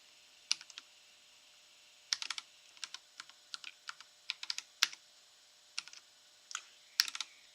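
Keys clack on a computer keyboard as a host name is typed during a DT OS beta install, coming in quick irregular bursts of crisp, close clicks with short pauses between them.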